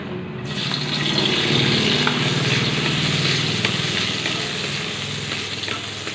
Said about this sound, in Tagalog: Isayin na natin itong bawang.